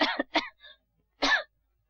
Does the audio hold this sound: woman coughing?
yes